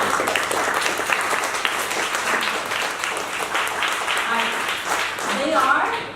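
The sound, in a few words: audience applause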